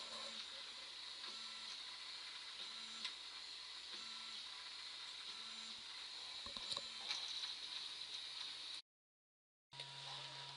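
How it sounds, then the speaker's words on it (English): A 3D printer prints a redesigned part, giving off a steady whirring hum with regular soft clicks and motor steps, fairly quiet and close, ending in a short gap. "so the piece has finished printing"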